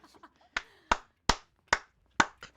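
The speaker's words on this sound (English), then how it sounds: "Clap it up for Trump." A few people clap at a pro-Trump moment, five or six sharp separate claps spaced roughly half a second apart, close and loud, after some brief murmuring.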